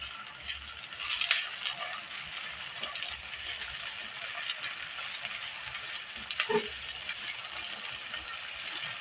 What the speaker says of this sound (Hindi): और उसको मज़ीद थोड़ा फ्राई कर लें।